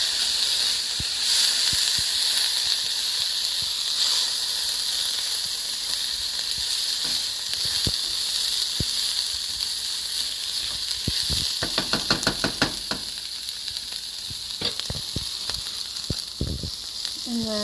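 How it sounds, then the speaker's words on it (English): Canned vegetables are stirred into golden-browned rice in a hot pan for Mexican white rice, giving a steady soft sizzle with scattered spoon scrapes and clicks, and a burst of clatter partway through. "we're gonna add our can of vegetables. And we're just going to stir that in."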